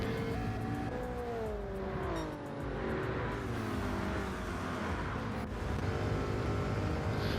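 Race cars in a GTO racing series speed along a racetrack straightaway, engines droning loudly and steadily with pitch dipping and rising as they pass and shift, one car drafting close behind another.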